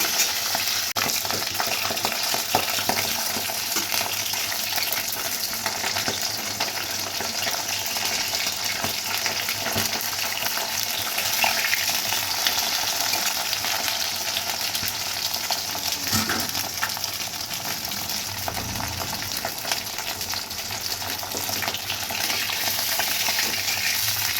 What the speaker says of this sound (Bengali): একে একে সমস্ত মাছ কিন্তু আমি এইভাবে ভেজে নিলাম